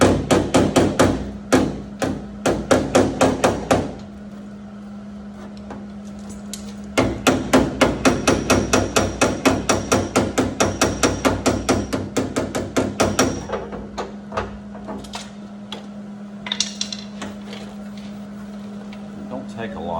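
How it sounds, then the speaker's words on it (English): A hammer strikes heated sheet metal on a 1981 Chevy Camaro body in quick rhythmic bursts of sharp, ringing blows, with short pauses between runs and a steady low hum beneath. "It don't take a lot to move metal when you get it with a hammer and you've got heat on"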